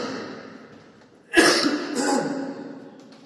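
A man gives a single sharp cough during a Hindi-language trigonometry lesson, a sudden loud burst with a rough, breathy tail fading over the next second, against a quiet room.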